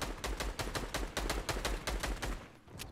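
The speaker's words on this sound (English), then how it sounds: "Pushing when he hears gunfire happening below him." Rapid gunfire in the Fortnite video game: a fast string of about a dozen evenly spaced, punchy shots over three seconds, loud and up close before trailing off.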